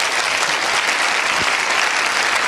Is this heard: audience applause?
yes